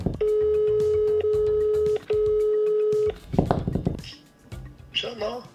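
A phone ringback tone sounds in three long steady beeps with short gaps, close and clear, followed by voices talking over the line.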